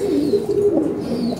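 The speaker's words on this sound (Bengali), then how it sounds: "এটা হলো আদানা কবুতর" Adana pigeon at a pigeon loft in Dhaka cooing in a soft, continuous low warble, close and steady throughout, with no talk.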